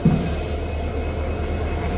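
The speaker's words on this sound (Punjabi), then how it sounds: "ਇਹ ਇਸ ਵੇਲੇ ਤੁਸੀਂ ਦੇਖੋ ਪਹੁੰਚ ਰਹੀ ਹੈ ਗੱਡੀ" A train pulls into a platform at a railway station, giving a steady low rumble of wheels and carriages, close and continuous, with a faint squeal of wheels.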